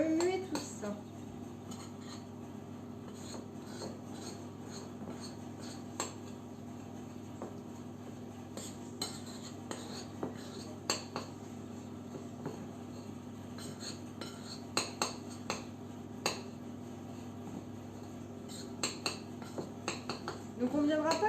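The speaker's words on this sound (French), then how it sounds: "j'ai mon beurre fondu que je viens incorporer dans ma poudre de biscuits salés. Et je viens remuer tout ça." Melted butter stirred into crushed salted crackers in a bowl, giving soft, faint scraping with scattered light clinks of a utensil against the dish over a quiet room hum.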